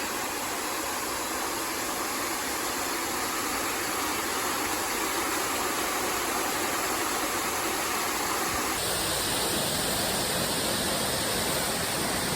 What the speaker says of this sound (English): Katahdin Stream Falls in all its beautiful glory. This is one of the most amazing waterfalls on the trail so far.